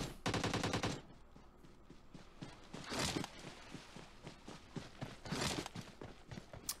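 M416 assault rifle fire in PUBG Mobile, a loud rapid burst at the start followed by scattered distant shots and quieter footstep-like thuds, with several sharp cracks recurring across the clip.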